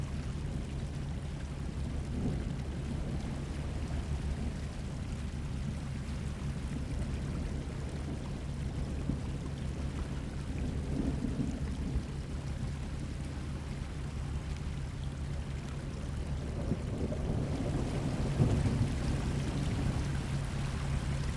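Stormy weather at sea in Professional Ship Simulator on a pilot transfer run: a continuous rain-and-water wash with low rumbling from the vessel underneath, steady throughout with a slight swell near the end, no distinct thunder clap.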